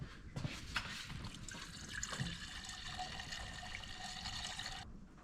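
Water poured into the radiator of a cheap, leaking Aston Martin, a steady faint trickling and gurgling stream lasting about five seconds before stopping, with no speech.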